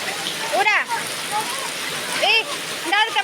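Rain falls steadily in Jeneponto as a continuous outdoor hiss, with voices talking over it at several points.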